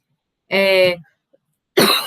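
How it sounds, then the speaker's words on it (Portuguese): Two sharp coughs close to the microphone, the first a voiced hack, then a short pause before a second, rougher one. "eu vou pedir desculpa para vocês pela tosse"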